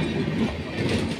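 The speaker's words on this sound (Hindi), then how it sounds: "कामख्या आनंद विहार वीकली सुपरफास्ट जो कि अब तक चल रही है" Kamakhya–Anand Vihar Weekly Superfast Express passing slowly out of Firozabad, a close, loud rolling rumble of wagons with rhythmic wheel clatter over a short stretch.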